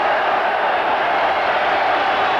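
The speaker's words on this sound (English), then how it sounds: "The crowd appreciating the great skills of this Wigan captain" Rugby league crowd at the Wigan versus Widnes John Player Trophy final applauding the Wigan captain, a steady broad wash of clapping and crowd noise held at even level throughout, with no distinct voices.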